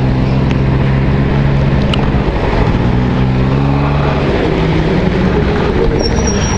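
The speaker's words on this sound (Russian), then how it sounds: "Мотор еще не провзялся никак." A Honda Dio scooter engine runs steadily while warming up on a cold start, a loud, close, continuous buzz with some wind noise and no speech.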